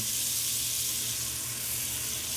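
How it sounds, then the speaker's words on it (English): Chopped spring onion and celery sauté in a large Staub Dutch oven, making a steady, even hiss of frying that stays constant and close, with no talking over it. "I'm just going to saute this until it's translucent"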